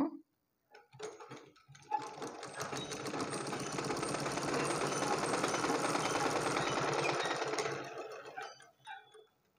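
Sewing machine stitching a blouse seam, a fast mechanical whirring rattle that starts after a few soft clicks, runs steadily for about six seconds, then slows and stops, close and fairly quiet.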